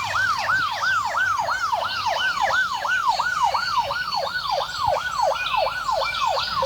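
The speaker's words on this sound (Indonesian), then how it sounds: "Ini mobil ambulan." A toy ambulance sounds its electronic siren in a steady, regular two-tone wail that repeats evenly and stays close and clear, with no voices.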